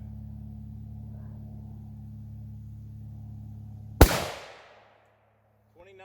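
A single loud .300 Winchester Magnum rifle shot fired at body armor, one sharp blast after a steady low hum, decaying quickly into silence.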